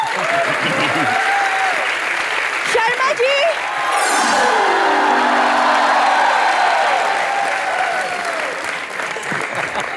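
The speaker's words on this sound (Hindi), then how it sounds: "तालियां बनती हैं।" A studio audience on a Bollywood comedy talk show bursts into loud, sustained applause with some cheering and whoops, while a host talks over it briefly and music swells in the background.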